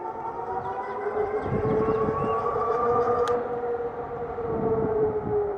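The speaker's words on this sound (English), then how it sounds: "I'll never get tired of the sound of this motor and how instantly it kicks in" A rising electric motor whine from an Ariel Rider 52V X-Class e-bike on throttle at high speed holds steady over rumbling road and wind noise, loud and close throughout.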